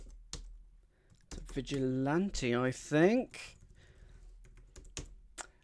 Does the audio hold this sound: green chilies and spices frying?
no